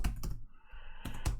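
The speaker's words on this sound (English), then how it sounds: "now I'm typing all sorts of crazy stuff" Quick keystrokes on a computer keyboard while coding in Business Central AL, close and crisp, in two short clusters of clicks separated by a brief quiet gap.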